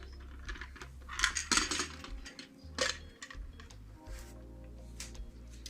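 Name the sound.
cake pan and cake stand clattering during a flip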